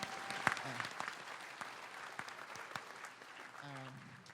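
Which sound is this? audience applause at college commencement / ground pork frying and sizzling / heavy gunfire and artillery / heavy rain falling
audience applause at college commencement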